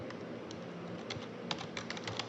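Keys tapped on a computer keyboard at an office desk, a quiet, steady patter of light clicks with a few sharper strokes, heard close and alone.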